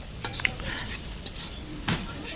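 Cardamom and cinnamon frying in hot oil in a pan, a close steady sizzle with a few clinks and scrapes of a spoon stirring against the metal.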